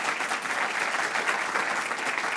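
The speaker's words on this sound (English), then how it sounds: "a round of applause for Ms. Amina Çınmulay" An audience gives a speaker a round of applause: a dense, even wash of many hands clapping together at moderate volume, heard for a couple of seconds without pause.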